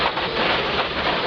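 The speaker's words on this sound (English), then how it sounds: "Through the water splash again." A rally car on the 1997 Network Q RAC Rally, running on Pirelli tyres, ploughs through a water splash. A loud, broadband rushing wash of spray fills the whole moment with no voices.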